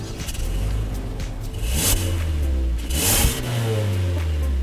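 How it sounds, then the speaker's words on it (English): A 2017 Hyundai Elantra Limited's 147 hp 2-liter four-cylinder drones steadily, with two rising revs swelling near the two- and three-second marks before settling back to a low hum. "Here's what makes it go, a 147 horsepower 2-liter 4-cylinder."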